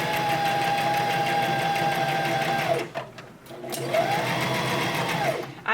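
A sewing machine stitches fabric for an owl stuffy, running in a steady close whir, pausing briefly when the needle is set down for a turn, then whirring up again.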